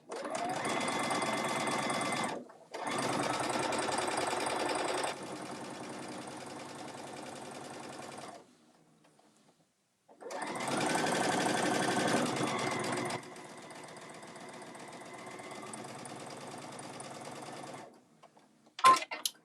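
Sewing machine quilting the outside panel of a large bag, running in two long steady bursts of stitching separated by short pauses, close and loud with no talk.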